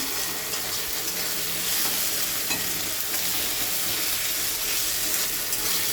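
Spices are stirred and fried in a pan with salt and ginger-garlic paste, producing a dense, loud, steady sizzle with faint scraping from the stirring throughout.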